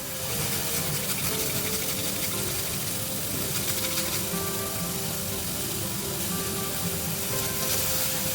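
Vegetables sautéing in a pan for ragi veg soup give off a steady, even sizzle with a hissing wash that runs unbroken throughout.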